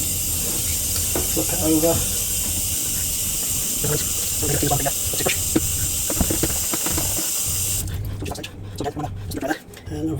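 Water from a tap rinsing washing-up liquid off a vinyl record, a steady loud hissing spray that cuts off near the end, with someone talking over it.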